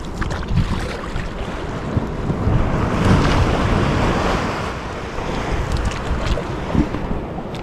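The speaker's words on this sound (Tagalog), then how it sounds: "Dahil malakas ang hampas ng alon." Strong ocean waves crash and surge around a small paddle boat at sea, a loud, continuous rush of water with wind buffeting the microphone and no talking.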